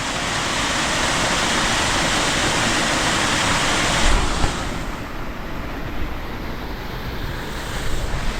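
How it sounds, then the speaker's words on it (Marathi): Steady rushing water from a small village waterfall at Ozare pours continuously and fairly loudly, a broad even roar with no voices. "हा ओझरे गावचा छोटासा वॉटरफॉल"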